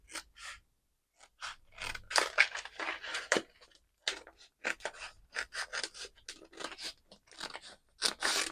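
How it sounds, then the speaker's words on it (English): Scissors cutting a strip across heat transfer vinyl, heard up close as a series of crisp, crunchy snips in uneven bursts separated by short quiet gaps. "I just mark up where that is, and I just like to cut a strip across"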